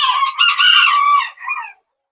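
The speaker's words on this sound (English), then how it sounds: "Just like this little cockerel right there." A young Old English Game Bantam cockerel lets out one close, loud crow with a higher-pitched broken tail, then silence.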